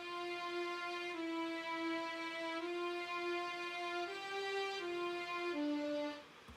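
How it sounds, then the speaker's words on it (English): A synthesized string top line for an EDM electronic pop track, sustained harmonic-rich notes stepping slowly from chord to chord, steady and fairly loud, alone without talk. "I also added a top line to the chord progression for the strings."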